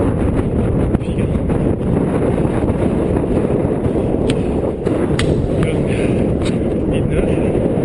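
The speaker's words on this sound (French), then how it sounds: "Il y a du vent, là ça va un petit peu plus fort." Steady, loud wind buffeting the microphone on a foggy Pyrenees mountain trail during a trail race, a continuous low roar with a few faint higher knocks and no let-up.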